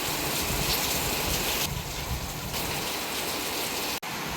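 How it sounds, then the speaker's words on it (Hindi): Steady heavy rain pours down outside a terrace house, a dense continuous patter on surfaces that stays loud throughout, with no voices. "बाहर देख सकते हैं आप दिन दिन बारिश हो रही है।"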